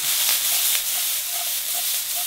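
Pearl spelt, spring onions and vegetables sizzle and hiss steadily in a frying pan, a continuous bright crackling fry held close and fairly loud, with no voices over it.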